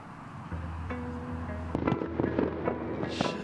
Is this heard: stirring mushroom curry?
no